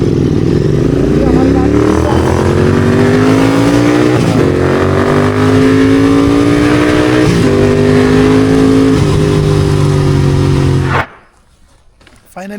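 A Royal Enfield Interceptor 650 motorcycle rides along, its engine droning loud and close with pitch rising and falling through gear changes, before cutting to near silence at the end.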